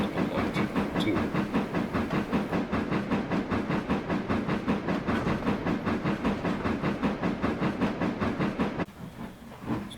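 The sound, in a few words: steam locomotive number 255 running, from Trainz video game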